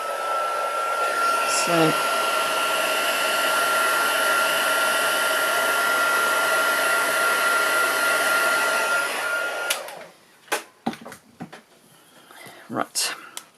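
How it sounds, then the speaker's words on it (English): A heat gun blows hot air over wet ink on a Halloween gnome craft, a loud steady whooshing roar for about ten seconds before it cuts off, leaving soft handling noises and a brief spoken word. "I think I might bring in my heat gun just to dry the ink a little bit"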